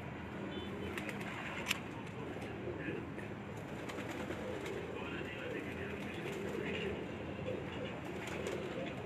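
An Ali wala pigeon coos in low, soft murmurs at a Sialkot pigeon-keeper's home, faint against a constant wash of background noise, with occasional clicks and a few short sharp sounds.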